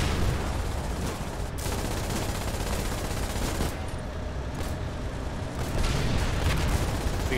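Dense, continuous gunfire and explosions roar through a tank battle video game, a loud unbroken barrage with no clear single impacts.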